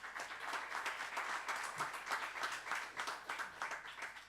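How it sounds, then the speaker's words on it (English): An audience applauds in a debate chamber at an education forum, a steady dense wash of many hands clapping throughout, fairly faint and distant, with no voices. "on my right, please a round of applause."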